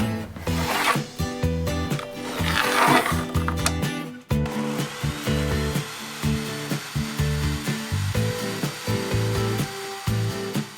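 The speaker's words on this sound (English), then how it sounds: "so we used a table saw to cut them down to size." A table saw trims wooden shelf pieces lengthwise, a loud steady power-tool whine with a harsher cutting burst early on, then the motor running on with rhythmic fluctuations as the wood feeds through.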